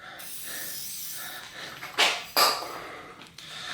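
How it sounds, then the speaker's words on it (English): Short hissing bursts from a WD-40 aerosol can onto rusted, seized RST Gila T5 fork shocks, two distinct sprays in quick succession over a faint background hiss, close by. "Spray the WD-40 on here."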